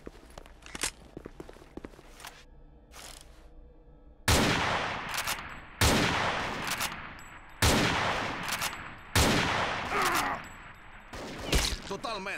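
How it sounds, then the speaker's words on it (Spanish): Gunfire bursts in a Spanish-language video game shooter: sharp, loud broadband shots and fusillades repeat about every one and a half seconds in the second half, after quieter clicks and light footsteps, with no talk over them. "hay que le pegue un balazo a Faben así."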